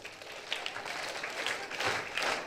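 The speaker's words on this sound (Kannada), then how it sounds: "ಜೋರ ಚಪ್ಪಾಳೆ ಬರಲಿ." Students applaud at a school seminar on acting in theatre, a crowd of hands clapping steadily at moderate distance and swelling louder toward the end.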